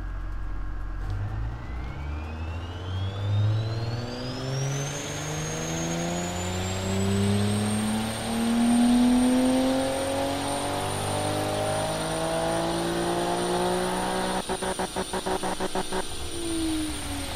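In Automation, a simulated 90s Japanese-style car engine with intake variable cam timing and a turbo revs up through a long rising sweep, holds near its limit, then sputters rapidly against the rev limiter near the end.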